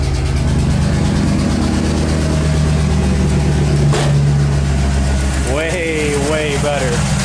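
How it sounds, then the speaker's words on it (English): A turbocharged Dodge Dakota idles through a new turbo exhaust with an uneven, unequal-length burble, close and steady, while someone talks over it. "It's got a nice unequal length burble to it, which I was hoping would happen."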